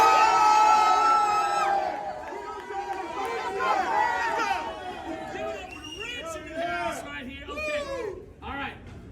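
A lively crowd at an E-40 event at Oracle shouts, whoops and cheers in a noisy, overlapping wave, with excited voices rising and falling throughout.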